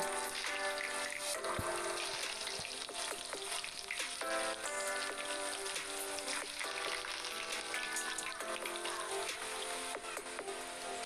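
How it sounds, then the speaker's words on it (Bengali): Potatoes dropped into hot oil in a kadai, frying with a steady, dense crackling sizzle that runs loud and continuous throughout, with small pops scattered across it and no talking. "তেলটা হিট হয়ে আসলে আলুগুলোকে একটা একটা করে দিয়ে ফ্রাই করে নেব"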